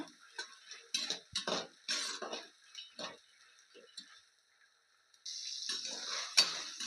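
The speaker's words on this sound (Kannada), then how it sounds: "ತಡ್ನಿಕಾಳು ಹಾಕ್ತಾ ಇದ್ದೀನಿ. ಫ್ರೈ ಮಾಡ್ಕೊಳ್ಳೋಣ." Field beans (avarekalu) frying in a pan, with a few close, quiet bursts of crackle and utensil scraping, a short lull, and then a steadier sizzle near the end.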